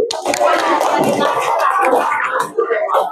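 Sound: applause for a group in class

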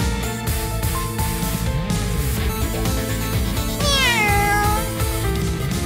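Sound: voice imitating a cat meow, "nya"

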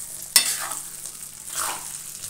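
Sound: kachnar being mixed into hot spiced oil

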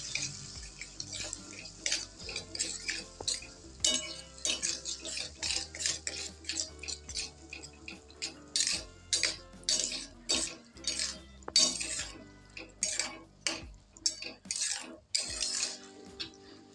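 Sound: stirring yogurt (curd) quickly in a pan with a spoon

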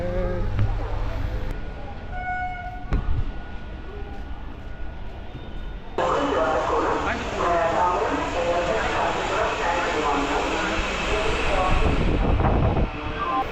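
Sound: Chennai suburban commuter train

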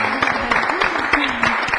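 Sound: audience applause

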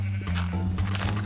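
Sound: sheep bleating in the video game Minecraft

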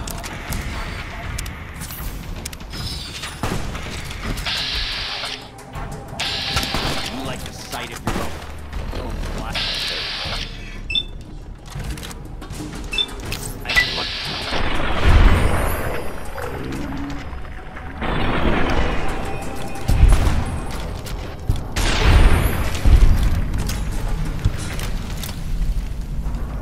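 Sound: grenade explosions in the video game Fallout: New Vegas

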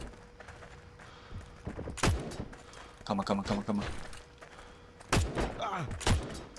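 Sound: gunshots in video game Heroes & Generals

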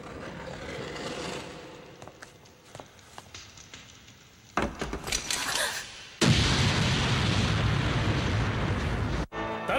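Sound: explosion in an anime

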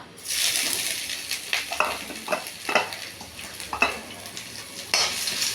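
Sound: grated ginger frying in hot mustard oil with spices

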